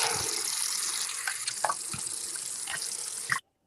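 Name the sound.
water running while washing a sink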